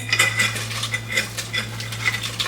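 Potatoes being stirred into a dish, a close series of metallic spoon scrapes and clinks against cookware in an uneven rhythm, with no talking.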